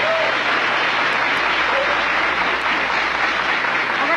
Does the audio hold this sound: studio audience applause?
yes